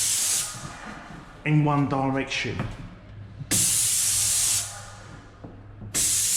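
A paint spray gun spraying a staircase, its loud steady hiss coming in long bursts with pauses between, while someone talks over and between the passes.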